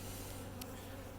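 Honeybees buzzing at an opened Flow Hive, a freshly installed five-day-old nucleus colony disturbed without smoke, a steady dense hum with one brief louder pass near the middle.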